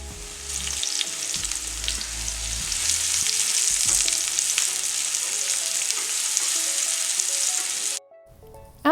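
Mushrooms and carrots fry in vegetable oil in a cast iron skillet with a loud, steady sizzle and occasional stirring clatter, close up, stopping abruptly near the end.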